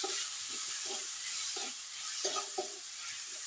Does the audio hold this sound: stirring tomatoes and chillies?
yes